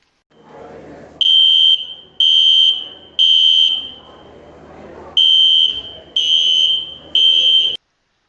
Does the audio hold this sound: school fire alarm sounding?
yes